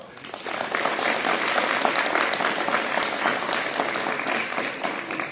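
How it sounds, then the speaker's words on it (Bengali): Students in a college hall burst into loud, dense applause, many hands clapping together in a sustained roar that holds for several seconds before tapering slightly. "অধ্যক্ষ স্যার এবং উপাধ্যক্ষ বৃন্দের জন্য জোরে একটা হাততালি দাও"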